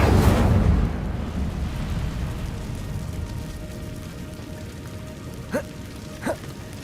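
The Incendio fire spell in Hogwarts Legacy bursts with a loud whooshing blast of flame, then fades into a low crackling rumble, with two small sharp flicks near the end.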